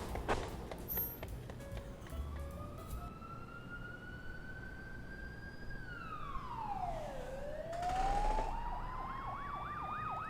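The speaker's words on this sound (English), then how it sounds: "turn on the siren" A police car siren from the video game This Is The Police wails with a rising tone, then sweeps down and up into a fast warbling yelp, fairly faint, after some brief clicks and no talking.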